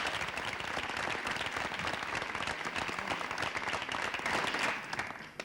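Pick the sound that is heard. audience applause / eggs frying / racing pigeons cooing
audience applause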